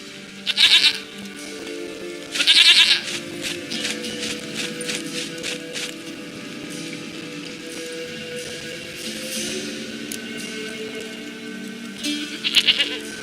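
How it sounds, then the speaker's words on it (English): A goat in the fantasy game The Witcher 3 gives three loud bleats, at the start, just after, and near the end, with quieter game ambience and faint footsteps between them. "sweetest goat."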